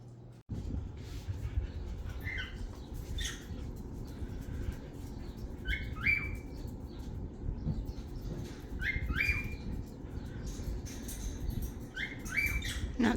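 Small birds chirp in short, repeated bursts over a steady low rumble outdoors, with several calls spaced across the scene near a yard where cats are kept.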